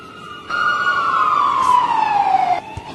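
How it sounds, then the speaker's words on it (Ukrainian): An airport fire engine's siren sounds a single loud, close wail that slides steadily downward in pitch for about two seconds, then cuts off abruptly. "А так виглядає аеродромний пожежний автомобіль."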